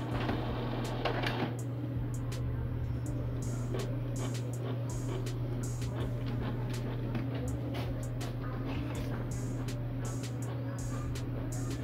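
An Epson 4160 printer runs a print job, giving a steady low mechanical hum with a scatter of sharp clicks and ticks throughout, heard up close with no talking.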